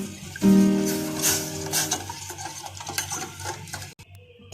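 Water with cardamom pods is stirred in a pot, giving a close, scraping, clattering rhythm of spoon against metal that runs steadily before cutting off abruptly near the end.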